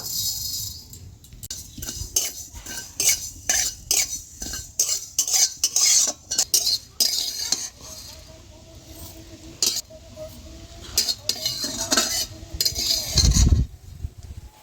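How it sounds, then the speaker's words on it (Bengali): Half a teaspoon of fennel seeds frying in a hot wok, heard as a run of sharp metal spoon scrapes and clinks against the pan, close and uneven, with brief quiet stretches and a louder knock near the end. "কড়াইয়ের মধ্যে দিয়ে দেবো 1/2 চামচ মৌরি। মৌরিটাকে একটু ভেজে নেব।"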